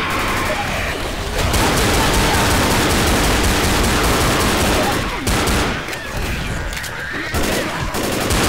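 Sustained, loud gunfire from the zombie shooter game Left 4 Dead, with rapid automatic bursts running almost continuously and a couple of brief dips, while a player's voice is faintly mixed in.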